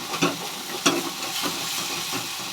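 Prawn bharta being stirred in a pan with salt and sugar until its water dries off, a steady close sizzle broken by a few soft spatula scrapes at irregular intervals.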